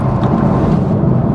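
A BMW M2 Competition F87 makes a quick gear change, a loud, close engine roar with a brief rumbling shift, heard on its own.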